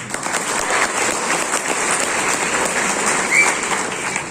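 Sustained audience applause from a crowd at a public speech gathering, dense and steady throughout, swelling slightly near the end with no talking over it.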